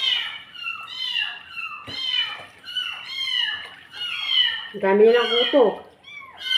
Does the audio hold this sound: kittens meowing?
yes